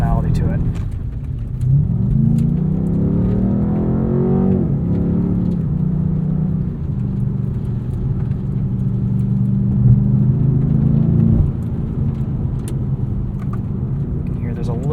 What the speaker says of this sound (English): You can hear there's a little bit of an aggressive pop and burble on the overrun.